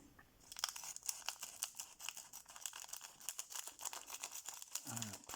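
A Force of Will trading card booster pack's plastic wrapper crinkles and tears up close in a steady run of crackling rustles, ending with a soft thump.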